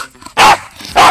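A dog by a river gives two loud, close barks about half a second apart, with quiet outdoor background between them.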